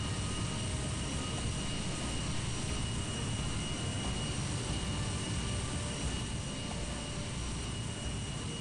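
An aircraft engine in the Planetside video game drones on in a constant, dense rushing roar with no letup, steady and moderately loud throughout.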